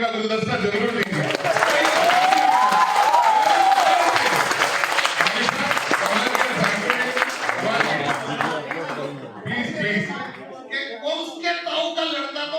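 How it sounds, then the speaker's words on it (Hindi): An audience at a Hindi poetry recital applauds, with a dense wash of clapping that holds steady before thinning out and breaking into scattered claps, with voices mixed in. "एक बार थोड़ी तालियों का गुलदस्ता जरूर दीजिए।"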